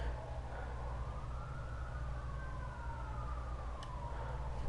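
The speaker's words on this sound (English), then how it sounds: "Fire truck and ambulance going by." Fire truck and ambulance sirens pass at a distance near a fire department, a faint wailing tone rising and falling over steady low background rumble, with no talking.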